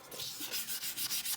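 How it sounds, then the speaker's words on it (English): Wet sanding a guitar body by hand with 600 grit paper and glass cleaner, a soft rhythmic scrubbing of back-and-forth strokes, close and fairly quiet with no talk. "I'll probably do a little wet sanding on this."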